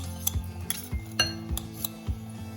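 Two spoons shape codfish fritter mixture, scraping and clinking against each other in a quick, irregular series of light metallic taps, close and fairly soft.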